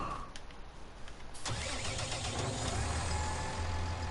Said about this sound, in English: I'm going to get in this tractor now.